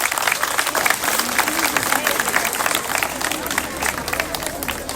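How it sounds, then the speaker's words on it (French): An audience applauds at a school assembly, dense steady clapping from many hands filling the room evenly throughout. "Nous devons l'applaudir."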